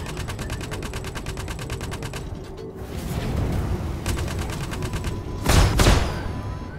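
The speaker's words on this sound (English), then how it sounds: "Now I could fire just that second weapon with this switch over here." Ship weapons firing in the space game Star Citizen aboard a Warthog craft: a rapid mechanical rattling burst, then a pause, rising whir and a loud sharp blast near the end.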